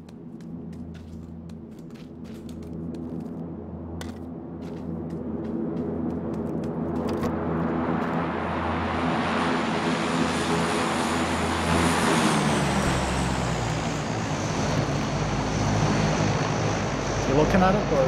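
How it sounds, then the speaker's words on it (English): Propeller airplane in a video game, first a low steady drone that swells into a loud broad roar as it passes over, with scattered clicks and faint game noise early on. "The plane is coming again."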